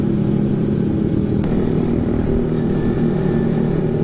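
A carburetted two-cylinder Kawasaki Ninja 250 cruises on a night ride, its engine droning in a steady, loud hum with constant road and wind rush and no clear revving changes.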